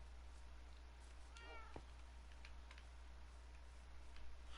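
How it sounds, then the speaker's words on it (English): A cat meows once in a game world, a short wavering call partway through, faint over a steady low hum with a few soft ticks. "Oh, there's still a cat over here."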